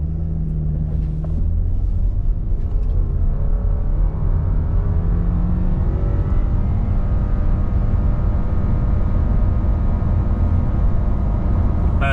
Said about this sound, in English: Traction is off, I'll brake rev the CVT, and then I'll verbalize the true 0 to 60.